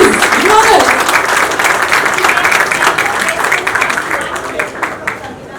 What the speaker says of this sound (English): Can we have a humongous round of applause please?